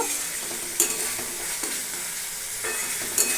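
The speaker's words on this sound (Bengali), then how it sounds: "মশলাটা খুব ভালোভাবে কষিয়ে নেব" Spice paste stir-fried in a pan for green jackfruit curry, a continuous bright sizzle broken by a few sharp utensil scrapes and clinks, close and alone without talk.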